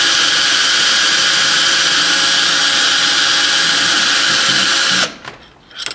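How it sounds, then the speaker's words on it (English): A drill motor of about 1200 RPM spinning a Warn 9.5XP winch planetary gear set whirs steadily and loudly for five seconds, then stops abruptly, followed by a few faint clicks and rattles. "I've just connected it to a drill motor here, and I'll show you how slowly this planetary gear set actually spins"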